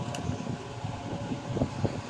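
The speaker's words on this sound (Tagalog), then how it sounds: "So, open natin electric fan." An electric fan switched on through an automatic timer socket gives a steady, moderate whirring hum with a constant airy rush, running alone without speech.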